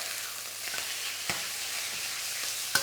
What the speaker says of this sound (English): So we're going to go in there with my spatula and flip things over